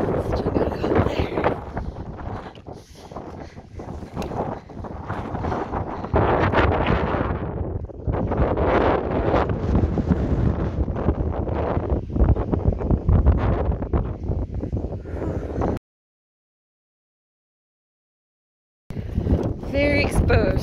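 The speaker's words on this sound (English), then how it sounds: "Very windy." Strong, steady wind roars and buffets the microphone on the exposed Webster Cliffs ridge in New Hampshire's Presidential Range for most of the clip, then cuts out briefly before gusting back in.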